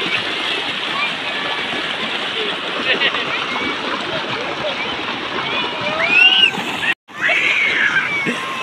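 Shallow rainwater rushing across a road beside a waterfall on the Shimla highway near Parwanoo, a steady broadband wash close by with brief splashes, a short dropout near the end.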